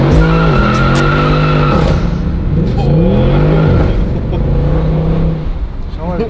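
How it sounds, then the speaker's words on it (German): Mercedes-Benz C63 AMG sliding sideways after a kickdown, its engine droning and rising in pitch with a tyre squeal and skid running under the roar, while someone talks over it. "Schau mal, der rutscht komplett aus."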